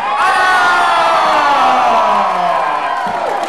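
A large crowd at a Czech high school graduation ball roars with loud, sustained cheering and whoops of support for contestant Ana, dense and close, easing slightly near the end.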